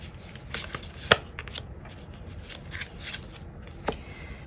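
Tarot cards being shuffled by hand, soft papery riffles and a few sharp snapping clicks at an uneven pace, close and fairly quiet.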